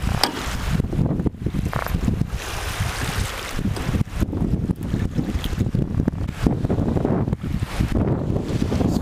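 Strong wind roars into the microphone aboard a fishing boat, a loud, constant buffeting rumble with gusty surges and no clear pauses.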